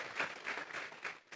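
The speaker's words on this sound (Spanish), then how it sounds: "Vamos a regalarle ofrenda de palmas al Dios de la gloria" Church congregation clapping together in praise during a Sunday worship service, a steady rhythmic applause of many hands that pulses in waves and dips briefly near the end.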